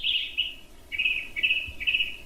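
A jay in a forest gives a short series of harsh, repeated calls, four or five bursts in quick succession, fairly close and clear over a quiet background.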